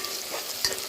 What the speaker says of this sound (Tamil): பக்கத்துலேயே நம்ம வெங்காயம் பாருங்கள் நல்லா வதங்கிட்டுருக்கு